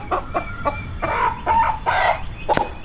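A native country hen, a tall breed not yet at laying age, clucks in a series of close, loud calls with short squawks between them, no talk.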